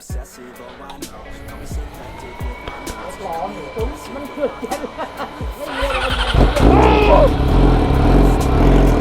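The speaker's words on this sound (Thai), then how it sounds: "ฟังเสียงท่อหน่อยดิ" A newly bought car's exhaust revs, a soft low rumble rising and swelling to a loud, sustained roar toward the end, with people chatting over it early on.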